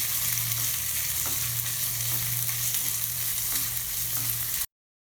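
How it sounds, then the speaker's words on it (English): Paneer pieces lightly sautéing in a little hot oil, giving a steady, dense sizzle close up with faint periodic stirring taps, cut off abruptly near the end. "Side by side I have just heated a little bit of oil and I am going to add the paneer pieces to it and lightly saute them"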